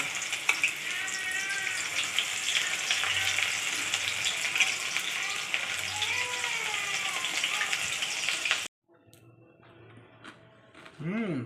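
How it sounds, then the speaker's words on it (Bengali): Sweet corn kernels deep frying in hot oil with cumin powder and turmeric, a steady loud sizzle for most of the stretch that cuts off abruptly, followed by quieter kitchen clatter and a faint resumed sizzle. "এইভাবে দিয়ে দিয়ে সব কটা ভেজে নেব।"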